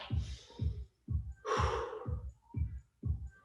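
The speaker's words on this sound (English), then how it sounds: "Nice slow breathing in and out." Slow, deep breathing in and out during a fitness training session, close and audible: several soft low inhales and exhales in a steady rhythm, with one longer, heavier breath near the middle and no speech.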